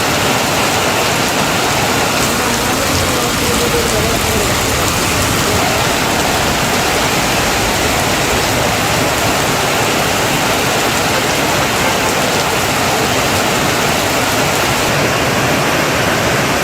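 Heavy rain pours in Kerala as a loud, unbroken roar of dense rainfall, steady and close for the whole stretch, with no voices.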